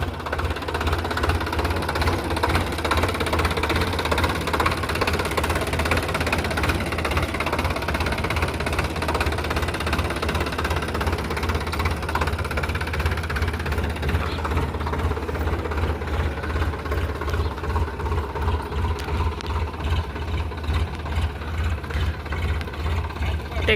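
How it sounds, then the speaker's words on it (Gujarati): A tractor engine chugs steadily up close on a farm with gram planted, a deep, rhythmic knocking rumble that continues throughout, with a voice faintly underneath. "ચાલો ટ્રેક્ટર લાવે"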